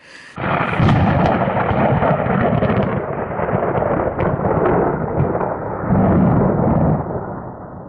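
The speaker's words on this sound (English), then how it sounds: "started getting the really loud thunder, sort of can feel it vibrating through me." Loud, rumbling thunder rolls on for several seconds, deep and booming, with surges in intensity and no voices, heard from a tent while camping on the Pacific Crest Trail.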